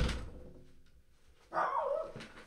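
A dog barks once, a short, close, mid-pitched bark that falls off quickly, standing alone after a soft thump in a quiet room.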